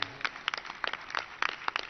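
An audience claps for two daughters: scattered, fairly light handclaps that come unevenly through the moment, with no one talking.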